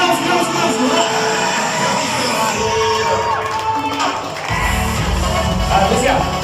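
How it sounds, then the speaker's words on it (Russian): Wedding guests at a celebration erupt in loud, sustained cheering and shouting. The crowd noise is close and dense and carries on for the whole stretch, with a heavier rumbling swell toward the end. "Аплодируйте, громче"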